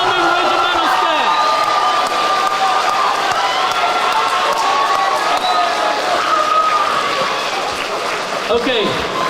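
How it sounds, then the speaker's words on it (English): Audience applause at a high school JROTC awards ceremony, with a crowd clapping and cheering steadily throughout, mixed with whoops and loud voices in a busy room. "Please join me in giving a big round of applause to our outgoing and incoming regimental staff."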